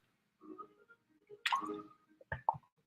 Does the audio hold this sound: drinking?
yes